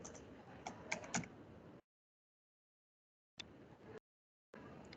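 Typing on a computer keyboard comes in short bursts of quick, close clicking keystrokes, separated by stretches of complete silence.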